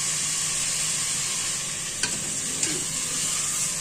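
Oil hisses and sizzles steadily in a pan while beef curry cooks, a dense close frying crackle with a couple of faint scraping stirs.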